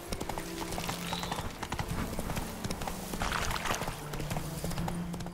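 A horse trots in The Witcher 3: Blood and Wine, its hooves clip-clopping in a fast, steady rhythm, loud and close, over continuous background game ambience.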